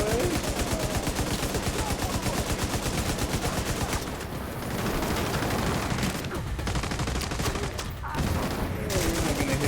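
Automatic gunfire in a shooter video game fires in rapid, continuous bursts. The sustained rattling is broken by a few brief pauses, and faint voices sit beneath it.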